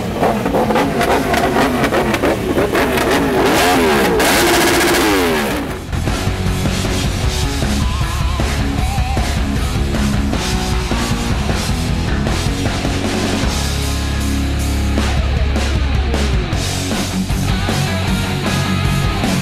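Motorcycle engines rev loudly at a bikers convention in Lagos, rising and falling in roaring sweeps against a busy, noisy crowd background, with a heavy low rumble near the end.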